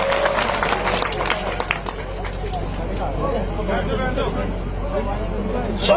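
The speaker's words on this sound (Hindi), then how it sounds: "सभी से निवेदन करूंगा कि तालियों के साथ, जोरदार तालियों के साथ इनका स्वागत करें" Loud, dense applause from a large crowd welcoming the chief guest at a public gathering, a steady wash of clapping with crowd noise lasting throughout.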